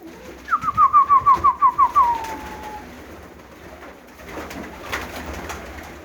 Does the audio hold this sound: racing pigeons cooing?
yes